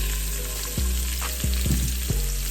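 Chopped onions go into a hot pan still coated from seared kielbasa and set off a steady, close sizzle, broken by a few sharp clatters of stirring.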